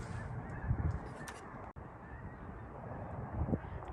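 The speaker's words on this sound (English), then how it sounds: "We got geese." Geese honking outdoors near a shop, a few faint, distant calls heard over steady wind and background noise, no talking.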